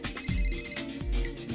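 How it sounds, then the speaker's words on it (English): A mobile phone ringtone rings loudly and close by, a repeating electronic melody with a sustained high tone running through it. "That's my phone. I gotta go."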